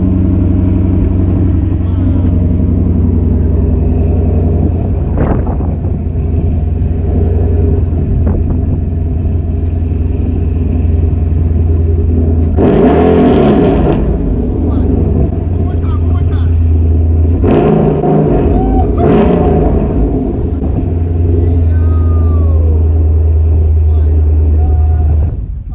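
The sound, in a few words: car with Magnaflow XMod exhaust revving on cold start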